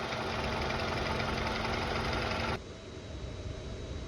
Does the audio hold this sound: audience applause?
no